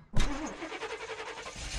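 A repaired car in the horror game In Silence starts up with a sharp crank and catch, then settles into a rough, pulsing idle, close and fairly loud, with no voices.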